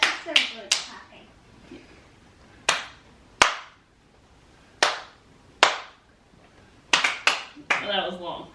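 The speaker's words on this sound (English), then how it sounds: "Oh, that was long." A child in a homeschool family rhythm game claps a long, uneven pattern: scattered crisp claps with gaps, a quick cluster near the end, and brief voices talking at the start and the finish.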